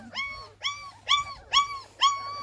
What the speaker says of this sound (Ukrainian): Боже, ви вже гавкаєте, зяйки мої, ви вже гавкаєте.